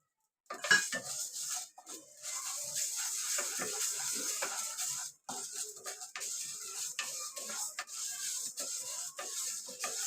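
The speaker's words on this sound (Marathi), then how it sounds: "ही मेथी घेते भाजून" Fenugreek (methi) seeds being dry-roasted in a pan, heard as steady close scraping and rattling of a spoon stirring the seeds against the metal, with one brief pause midway and no voices.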